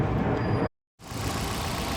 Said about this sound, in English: I do have the vehicle on at the moment, just so you can really appreciate the quietness of the engine